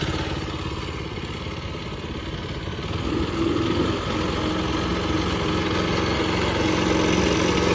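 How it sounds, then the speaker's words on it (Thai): A small 6.3-horsepower Mitsubishi engine on a used Japanese wood chipper idles steadily with a low, even mechanical rumble and light clatter, continuous throughout and fairly close. "เครื่องยนต์จะเป็นของมิสูบิชินะคะ"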